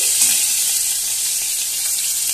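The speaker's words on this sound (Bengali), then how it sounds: "সর্ষের তেলে প্রথমে 5 ফোড়ন শুকনো লঙ্কা দিয়ে নুন হলুদ মাখানো মাছের মাথাটা ভালো করে ভেজে নিচ্ছি।" A hilsa fish head coated in salt and turmeric fries in mustard oil with five-spice and dry red chillies, giving a loud, steady, close-up sizzle that holds evenly throughout without any voices.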